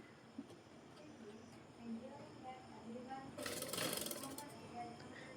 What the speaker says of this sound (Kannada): ಈಗ ನಾನು ಸೀದಾ ಸೈಡಲ್ಲಿ ಈಗ ಟಾಪ್ ಸ್ಟಿಚ್ಚನ್ನು ಹಾಕೋತೀನಿ